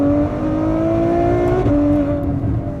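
A 740-horsepower Ferrari pulls hard down a racetrack's start-finish straight with traction control off, its engine note rising steadily and loudly, then shifting up once partway through before climbing again, heard from inside the car with no talk.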